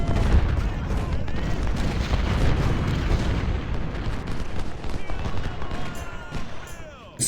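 Cannon and musket fire from the Civil War strategy game Ultimate General: Civil War rolls on as a continuous loud battle din of booms and crackling volleys, and a voice talks over part of it.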